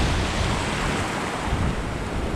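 Rough sea surf churns under strong wind, a loud, steady roar of breaking waves and gusts buffeting the microphone with no voices throughout.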